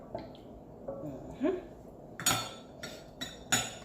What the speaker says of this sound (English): I'm gonna mix all of these ingredients together.